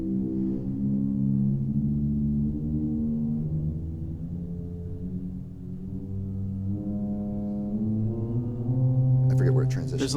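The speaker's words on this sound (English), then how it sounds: "it just sounds like a gentle diapason" Soft, dark sustained tones from the low wooden pipes of a 1924 Kilgen pipe organ in a church, several notes held and changing one after another, warm and gentle like a diapason, with a brief noisy burst at the end.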